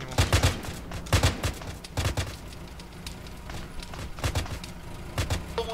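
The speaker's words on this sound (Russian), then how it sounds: "а, вы стреляете уже по нему" Gunfire in ARMA 3 during a night battle: bursts of rapid automatic shots crackle in clusters, with single shots and a few louder volleys between them. Some sound faint and distant, and a voice speaks briefly.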